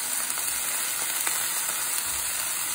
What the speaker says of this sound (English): you fry the onion with the Mopane worms